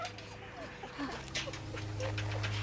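In The Walking Dead game, Season 2 Episode 1, an injured dog whimpers in short, faint, high cries over a low steady hum, with someone talking over it.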